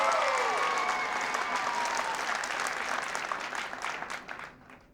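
A large crowd at a 1993 New Orleans gathering cheers and applauds loudly, with whistles and shouts over dense clapping that holds steady and then fades out toward the end.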